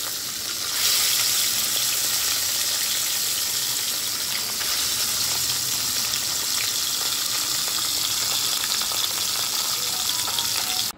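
Bele fish frying in hot oil in a wok, a steady dense sizzle and crackle running continuously and loud throughout with no speech.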